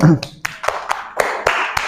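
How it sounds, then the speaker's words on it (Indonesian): Scattered hand claps from a class, uneven and building briefly, with a voice at the start. "Oke, tepuk tangan dulu."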